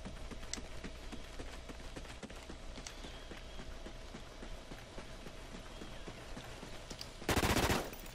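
Video game gun game match with gunfire, a steady stream of quick rhythmic shots at moderate volume, ending in a louder harsh burst near the close.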